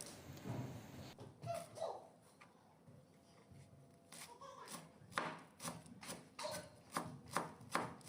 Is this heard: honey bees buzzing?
no